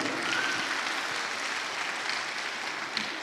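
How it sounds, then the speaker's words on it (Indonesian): Audience applause at a Muslim business gathering, with steady dense clapping that fills the room continuously at moderate loudness, with no speech over it. "Coach Ridwan, berikan aplaus, tepuk tangan untuk beliau."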